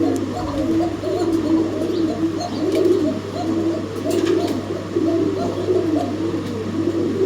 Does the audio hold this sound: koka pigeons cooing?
yes